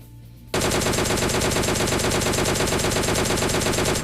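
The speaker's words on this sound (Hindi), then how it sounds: "4 गोली मारी इस बंदे के मैंने" After a quiet moment, rapid automatic Tommy gun fire erupts in PUBG Lite, a loud continuous burst of shots with a crisp, mechanical rhythm.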